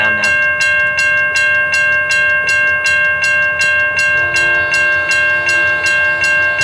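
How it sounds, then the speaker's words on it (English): A Portland Vancouver Junction transfer train passes a railroad crossing in South Prairie, Washington, where a loud, continuous crossing bell rings in steady rhythm as the train draws near. "We got our first train in quite a while."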